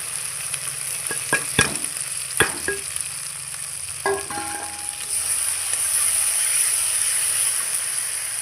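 Spiced chili paste with fried potatoes frying in oil for a fish-head muri ghonto, a steady sizzle and crackle with a few sharp clicks and stirring knocks early on, the hiss swelling louder toward the end.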